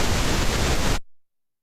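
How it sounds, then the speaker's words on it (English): Broadband pink noise played back as source material for an electroacoustic piece, a steady loud hiss across the whole range that cuts off abruptly after about a second, leaving silence. "So pink noise is something, yeah, simple that you know."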